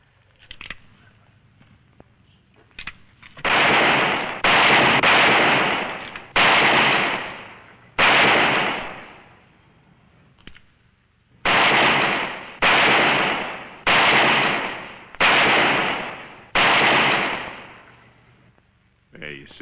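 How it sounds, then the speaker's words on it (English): Rapid revolver gunshots in an Old West setting as tin cans are shot at: about nine loud, sharp cracks with ringing tails, fired in two quick bursts separated by a short pause, near and prominent. "Well, that's real fine shooting, Mr. Allison."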